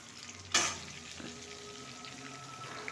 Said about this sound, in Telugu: ఇప్పుడు పక్కన పెట్టి ఆనపకాయ ముక్కలు సన్నంగా తరిగాను, ఇవి వేసేస్తాను